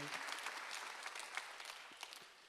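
A church congregation claps during a Korean Sunday worship sermon, giving dense, steady applause that fills the room for a few seconds with scattered sharper claps on top.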